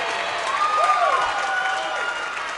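Crowd at a girls' high school volleyball semifinal cheering and applauding, a steady mid-distance wash of clapping and voices with a whistle-like tone rising through it.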